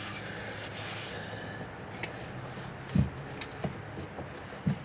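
A rag wiping down the underside of a car after an oil change, soft steady rubbing strokes with a few light knocks, fairly faint and close.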